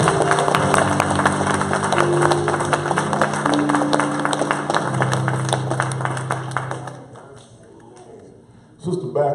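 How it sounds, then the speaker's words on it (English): A church congregation claps rhythmically along with sustained keyboard or organ chords and voices, the sharp claps sounding close, then dropping away as the music quiets before a brief loud burst returns. "Can we clap like we love Jesus today?"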